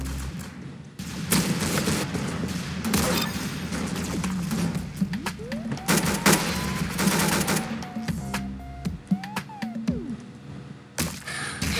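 Rapid gunfire in the Roblox shooter Arsenal, with dense volleys of shots and thuds running almost nonstop over the whole stretch and a few short pauses between bursts.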